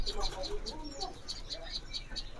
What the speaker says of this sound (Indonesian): Oh, cincoang bintang ini ya.